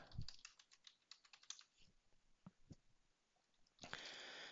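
Someone types on a computer keyboard, producing a quick run of close, faint key clicks, then scattered single taps, ending in a louder hiss-like burst.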